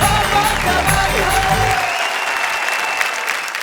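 Audience applause at a live Hindi comedy stage show, a dense burst of clapping that carries on for a couple of seconds and then tails off into a faint fading wash.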